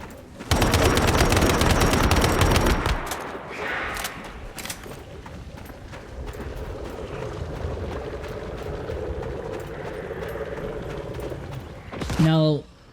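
Level 2 turrets blast away in the survival shooter Once Human, a loud rapid burst of automatic gunfire for the first few seconds, then lingering rumble and scattered shots, with a sharp final burst near the end.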